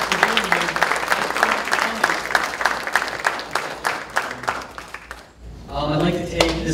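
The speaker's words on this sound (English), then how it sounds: "Let's give a big round of applause to all the winners," Audience applause for award winners at a youth awards ceremony, steady dense clapping from a crowd for several seconds before easing off, followed by a brief rise of cheering voices near the end.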